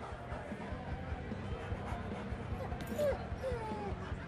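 A dog whimpers and yips softly amid a busy game soundtrack in Life Is Strange: Before the Storm, small cries rising briefly over steady background music and voices.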